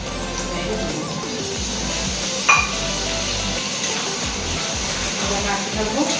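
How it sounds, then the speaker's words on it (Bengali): Pointed gourd (potol) frying in mustard oil in a pan alongside onion and tomato: a steady, moderate sizzle throughout, with one brief clink of a utensil and a voice speaking over it. "এই পটলটা ভাজা হচ্ছে"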